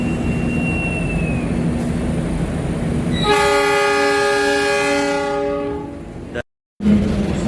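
The Joglosemarkerto passenger train at Kutoarjo station sounds its horn, a loud sustained multi-tone blast lasting several seconds over steady rumbling station and rail noise, then fading out.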